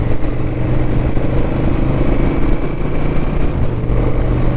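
A touring motorcycle on smooth tarmac along Scotland's NC500 route runs steadily in fourth gear, its engine a loud, close, continuous drone with a low throb and rushing wind, without any speech.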